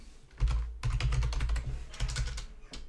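Rapid bursts of keystrokes on a computer keyboard while a Roblox username is entered, loud and close, with a brief pause between runs of typing.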